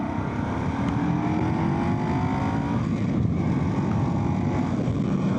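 A 2025 Indian 101 Scout motorcycle engine pulls hard under acceleration, a steady close-up roar with rising tone heard from the rider's position over wind rush, continuous for several seconds.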